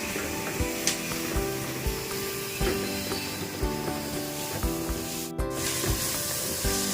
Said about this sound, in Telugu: బాగా మిక్స్ చేసుకోవాలి ఇవన్నీ బాగా మిక్స్ అయిపోయినాయి